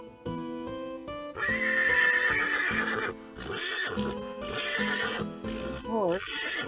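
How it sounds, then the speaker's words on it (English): A horse neighs and whinnies loudly inside an escape room game, drawn-out wavering calls in two main bursts, with players talking over and between them. "It's an unhappy horse."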